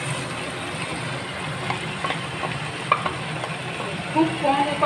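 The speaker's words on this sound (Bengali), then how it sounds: "এবার আমি ম্যারিনেট করা চিকেনটা দিয়ে দিচ্ছি" Marinated chicken frying in a pan, giving a steady low sizzle with occasional stirring scrapes and small pops that grow louder toward the end.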